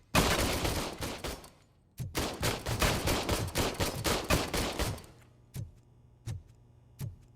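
Gunfire in RoboCop: Rogue City comes as two rapid automatic bursts, then slower single shots spaced apart, loud and close with no talk.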